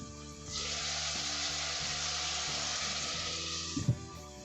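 Onion, paprika and garlic frying in a pan for a beef and potato tagine, giving a loud, steady sizzle that starts suddenly and holds, with a brief clatter near the end.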